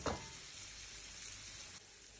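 Onions sizzling in a hot pan, a continuous even crackle heard close up for a couple of seconds with no voices over it.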